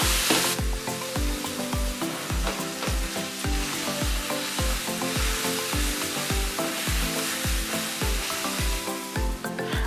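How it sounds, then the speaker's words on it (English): Chopped onions sizzle and crackle steadily in hot oil in a pan, a loud continuous frying hiss with regular stirring scrapes, no voices over it. "we need to fry the onions really nice and good"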